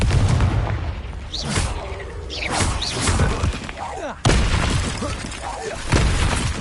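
Confringo blasting spells go off in Hogwarts Legacy, giving several loud booming explosions with shattering crackle that follow one another over a few seconds, with a dense game soundscape underneath.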